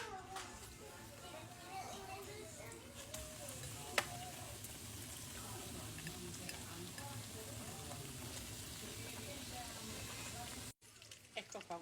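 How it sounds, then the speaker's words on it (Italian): Breaded slices of pan carré frying in sunflower oil, a steady close sizzle and crackle throughout, with faint voices in the background. "ho messo olio di girasole e andiamo a friggere"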